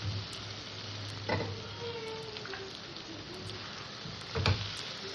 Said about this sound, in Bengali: এবার আমি এখানে ভেজে রাখা আলু কটা দিয়ে দিলাম